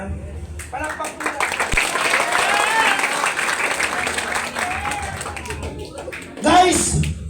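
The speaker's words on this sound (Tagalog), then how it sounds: "Palakpak mo." An audience claps at a motivational talk, a dense burst of applause running under a speaker's voice, with a louder swell of clapping and cheering near the end.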